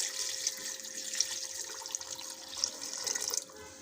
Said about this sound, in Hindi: अब इसमें हम लोग 3 गिलास पानी के शामिल करेंगे